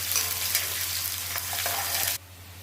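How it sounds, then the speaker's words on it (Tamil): Onions sauté in a generous amount of oil for brinjal kuzhambu, giving a steady, close sizzle and hiss that cuts off abruptly near the end, with no talking. "இது நல்லா வதங்கட்டும்"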